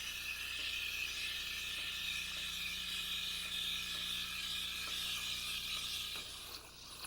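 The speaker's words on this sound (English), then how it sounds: "Now let's steam some milk." An espresso machine steam wand froths milk in a pitcher, giving a quiet, continuous airy hiss with faint gurgling and ticking textures throughout, with no voices.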